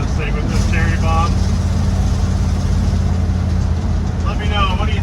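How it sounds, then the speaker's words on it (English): A 1955 Chevy truck with an old 350 engine and Cherry Bomb mufflers idles in a steady, loud, low rumble throughout, with someone talking over it at the start and end. "I love the sound of this thing with this cherry bombs."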